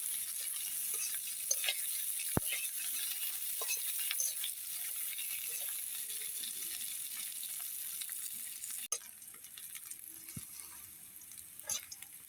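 Chopped onions frying in a pan, a steady close sizzle with intermittent stirring scrapes and sharp clicks, quieting somewhat toward the end, no talking.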